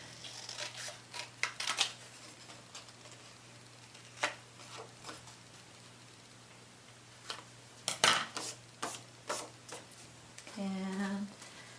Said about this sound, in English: Take it to my cutter. This is just cutting along the long sides, and then trim up the rest.